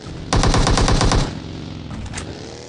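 In-game gunfire from Battlegrounds Mobile India: a loud, close burst of about ten rapid automatic shots, followed after a pause by a couple of fainter, more distant shots.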